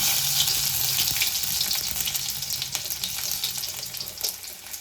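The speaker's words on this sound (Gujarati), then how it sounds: "હવે આપણે નાખી દઈશું સૂકું લસણ, જેથી પહેલા નાખશું એટલે સ્વાદ સારો આવશે." Dry garlic frying in hot oil with cumin for a Gujarati ringan no olo, a steady close hiss and sizzle that holds throughout with small crackling bursts.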